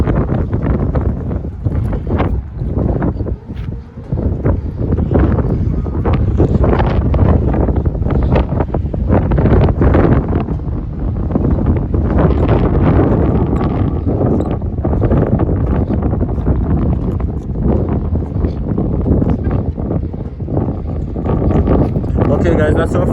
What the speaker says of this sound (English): it's just so windy, guys